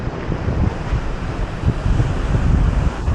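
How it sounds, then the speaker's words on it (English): Active ocean surf rolls onto the coast near Matata in New Zealand's Bay of Plenty, a loud, continuous roar of breaking waves mixed with buffeting wind against the microphone. "The ocean is active today."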